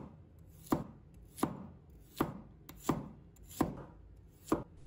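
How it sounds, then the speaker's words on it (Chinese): A knife chops a handful of garlic into small pieces on a cutting board, seven evenly spaced sharp thunks about a second apart, close and crisp with no talking. "再准备一把大蒜，把它切成小粒"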